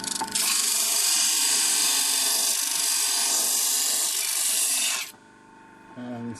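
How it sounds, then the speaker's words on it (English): A sanding disc grinds and tapers wooden bracing struts on the soundboard of a stick dulcimer, a loud steady abrasive whine for about five seconds that cuts off, followed by quieter workshop noise. "we're now going to shape the braces in with the sanding disc very simply"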